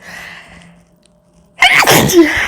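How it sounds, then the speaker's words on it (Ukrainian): A woman lets out one sharp, loud sneeze close by after a brief quiet pause, with faint speech just before it. "Ой, не хотіла вам чихати в ефірі"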